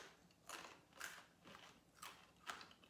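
Crisp carta de musica flatbread being bitten and chewed, four or five sharp crunches spaced about half a second apart, close but fairly quiet.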